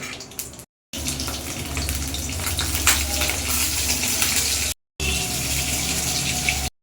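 Potatoes fry in mustard oil with a loud, steady hiss and crackle, broken by two brief silent cuts.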